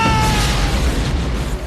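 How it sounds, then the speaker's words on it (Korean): A loud, rumbling explosion as a drug-manufacturing room blows up in the action film RoboCop 2, with a deep sustained roar and crackling debris filling the whole moment. "호브가 트럭을 타고 도망가는 사이 누크 제조실은 폭발하고"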